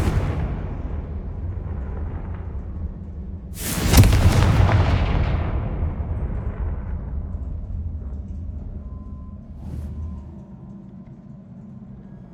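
Confringo blasting spell explosion in Hogwarts Legacy: a single loud, deep boom bursts out after a quiet stretch, then rumbles and slowly fades over several seconds with no talking.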